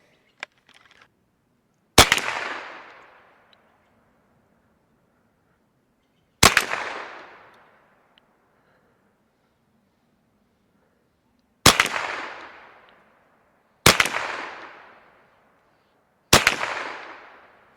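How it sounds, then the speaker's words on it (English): .22LR CCI Blazer rifle rounds fired one at a time outdoors: five sharp, loud cracks spaced a few seconds apart, each with a short fading tail, with near silence between. "So let's shoot 5 more rounds of each type"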